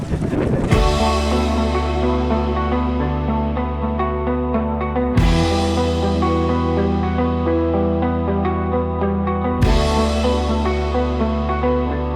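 A boat carrying passengers runs across the sea near Komodo under a steady engine drone, with wind buffeting the microphone and heavy rumbling bursts at regular intervals.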